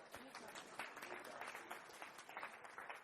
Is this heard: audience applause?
yes